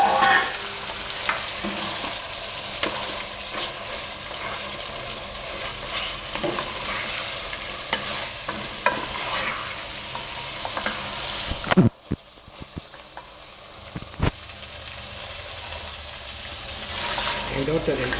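Mutton sizzles and fries in a pan for a Malaysian-style mutton masala while being stirred, with continuous close hissing and occasional scraping clatter; the sizzle briefly cuts out, then resumes more quietly with a few sharp knocks.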